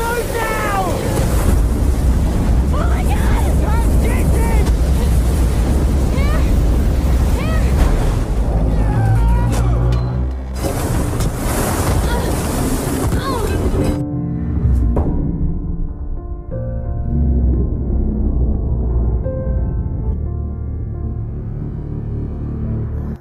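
From the film Adrift, a giant ocean wave crashes against a sailboat at sea: a dense, loud roar of surging water and wind that breaks off abruptly, then gives way to a quieter rumbling wash, with a voice speaking over parts of it.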